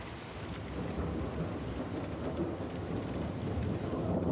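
Video game rain, a steady rushing downpour with a low rumble like distant thunder underneath, building slightly louder toward the end with no talk over it.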